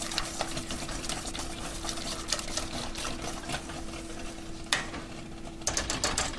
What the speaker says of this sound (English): Just a little bit more milk. I'd like it to be a little bit lighter. So let's say about a half a cup. And get that whisked in there really well.